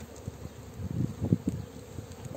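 A low, steady hum of many honeybees buzzing close by at an open hive, swelling briefly in the middle, with faint rustling underneath.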